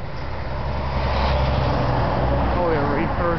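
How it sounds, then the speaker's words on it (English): Trucks and other vehicles roll through town traffic near the downtown area of Grant, Nebraska, a steady low engine rumble and road noise filling the whole stretch, close and fairly loud. "Oh, we got some trucks moving in."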